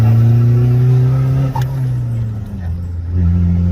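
A 2020 Isuzu D-Max 1.9 pickup with a replaced final drive accelerating in third gear, heard from inside as a loud, steady engine drone that dips briefly and then climbs again.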